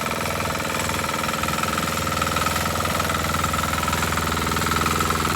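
A new tractor's engine runs continuously in a Konkan village, a loud, close, steady mechanical drone with a fast rhythmic chug and no pauses or speech.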